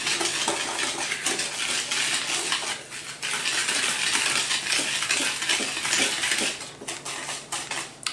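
Dry baking ingredients (sugar, baking powder, baking soda, cinnamon, salt and all-purpose flour) are stirred together in a mixing bowl, giving a continuous close scraping and clinking of utensil against bowl.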